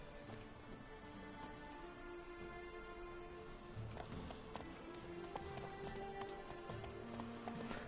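Horse hooves clip-clopping in The Witcher 3, a steady run of hoofbeats that grows busier and louder about halfway through, over a constant bed of game ambience with no talking.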